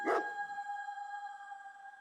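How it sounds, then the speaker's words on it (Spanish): A single sharp dog bark leading a frantic barking sound effect, loud and close, with a faint lingering tone fading away after it. "los ladridos frenéticos de mi perro"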